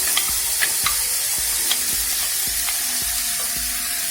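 Green chili, drumstick, potato and tomato sauté in hot oil for Kerala egg theeyal, a loud continuous sizzle broken by regular spoon taps and scrapes against the pan.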